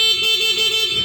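A Yamaha Mio Gear scooter sounds its stock horn in one steady, close, nasal beep lasting about a second.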